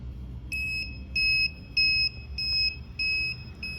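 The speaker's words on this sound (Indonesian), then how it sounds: "jika ada asap maka buzzer peringatan akan muncul" An IoT smoke alarm system's warning buzzer sounds a repeating series of short, piercing electronic beeps in a steady rhythm, loud and near, with no speech.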